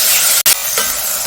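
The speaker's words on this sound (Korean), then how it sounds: "고기가 바닥에 눌러붙지 않도록 빠르게 볶아줍니다." Seasoned meat stir-fried quickly in a preheated pot with a spoon of cooking oil, giving a steady loud sizzle with brief scraping stirs and one short break, no talking.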